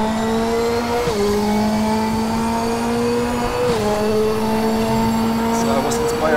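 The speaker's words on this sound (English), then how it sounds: "that's the turbo version of the Radical, as you can hear" Turbocharged Radical race car in the RaceRoom racing game, its engine note rising steadily through the gears with two clear shift drops, loud and close throughout the run.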